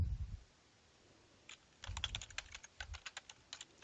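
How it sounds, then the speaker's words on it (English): A computer keyboard clicks under quick bursts of typing, with a short cluster of taps and then a longer run of separate keystrokes, close and fairly quiet, with no voice. "So all I have to do is type first name."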